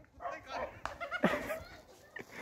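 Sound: dogs barking

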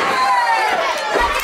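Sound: wrestling crowd cheering

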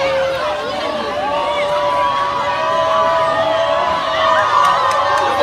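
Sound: crowd booing a judge

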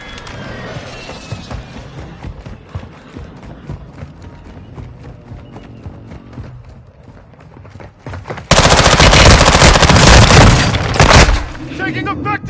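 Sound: light machine gun fire in a video game

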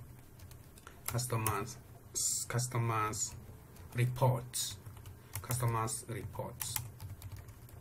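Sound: typing on a computer keyboard

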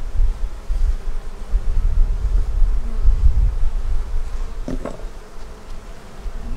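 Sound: honeybees buzzing around an open hive

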